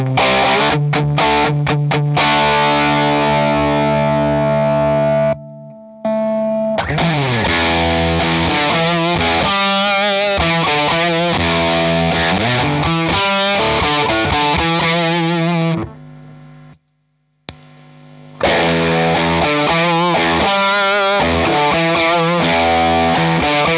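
Heavily distorted electric guitar through a Decibelics Reverend Distortion pedal, playing chords and riffs, loud and continuous, with two brief pauses of silence between phrases.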